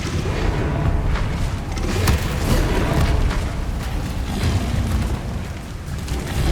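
An Incendio fire spell cast during Hogwarts Legacy combat on PC: a dense, roaring burst of flame and booming impacts that stays loud throughout, with sharp cracks layered on top.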